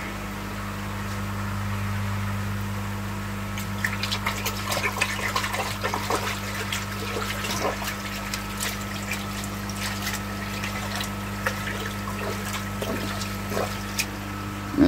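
Water rinsing through koi pond filter media, a steady rushing flow over a low pump hum, with splashy trickles and drips picking up midway and continuing.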